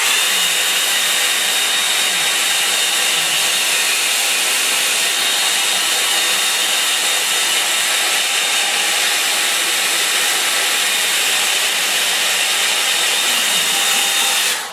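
A hair dryer blows steadily on a wet gouache painting, a loud, close, continuous whooshing hiss with a faint whine that holds throughout and cuts off at the end.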